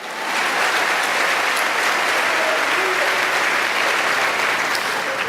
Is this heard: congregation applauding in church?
yes